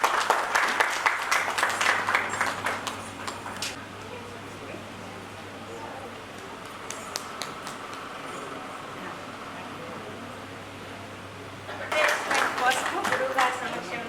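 An audience at a Karthika Pournami celebration in Khammam bursts into loud applause for a young girl's dance, a burst at the start and another near the end, with a quieter stretch of murmur and background hum between.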